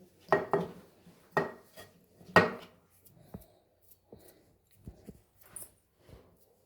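Rice flour is mixed into gram-flour batter for spinach pakoda in a bowl, giving a few close spoon knocks and scrapes against the bowl, then softer, sparse taps with quiet gaps.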